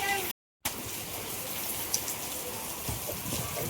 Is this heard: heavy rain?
yes